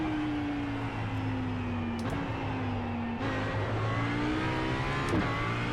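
An Audi GT3 race car in the iRacing simulator runs with a steady, loud engine drone and shifting revs as it loses grip and spins out mid-corner, with tire noise under the engine.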